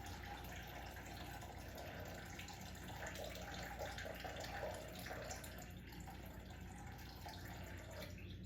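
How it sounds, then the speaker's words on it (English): Water from a tap is poured into a plastic bag over a sink, a soft continuous splashing fill with slight gurgling variation, faint and close, with no talking. "Fill your bag 3/4 the way with water."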